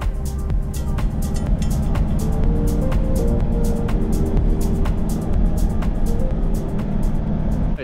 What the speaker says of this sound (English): we're going to head back down and drive along the beach